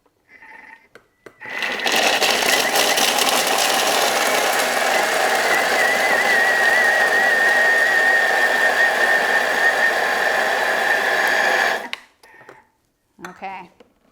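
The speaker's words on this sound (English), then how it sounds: "we will be blending that now on speed 7 to 8 for about 10 seconds" Thermomix blending a raw vegan cheesecake mixture at speed 7 to 8, a loud whirring grind that starts sharply, holds steady for about ten seconds and cuts off, with brief clatter before and after.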